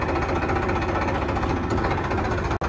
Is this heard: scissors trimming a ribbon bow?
no